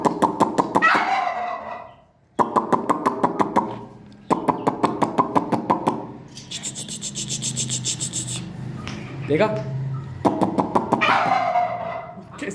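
Turkey calling in a rural flock, loud close bursts of rapid gobbling and clucking that repeat in several rattling rounds, with someone speaking briefly between calls.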